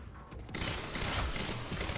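Burst-fire gunshots from a tactical SMG in the video game Quantum Break, a faint rapid volley of cracks following a quiet start, with dense layered shots rolling on for over a second.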